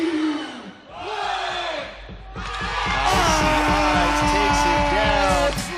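A crowd at a breaking battle erupts into loud shouting and yelling after a brief countdown, a dense roar of voices over thumping beat-driven music, building and holding to the end.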